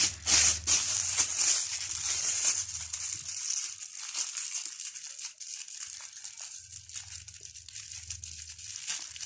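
Plastic bag of stored grape leaves being pressed to force the air out, giving close, loud crinkling and crumpling bursts that pause briefly midway before resuming.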